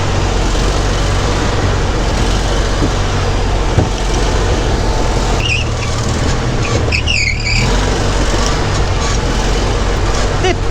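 The MAX IV amphibious vehicle's engine runs as a loud, steady, close drone throughout, with brief squeaky sounds partway through.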